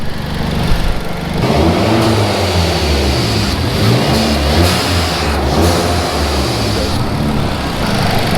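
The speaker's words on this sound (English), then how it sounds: "so the blow off valve opens up, so the spring is good" A Hyundai Genesis Coupe with a Forge blow-off valve drives hard, its engine droning and revving loudly and close with shifting pitch, the valve venting with brief hissing releases between pulls.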